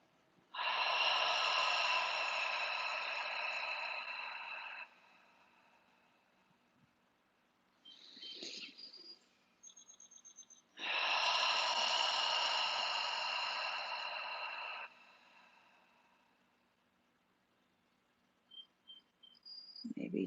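Two long, close cleansing breaths exhaled through the mouth, each a steady airy rush lasting about four seconds, separated by a quiet pause with faint rustling.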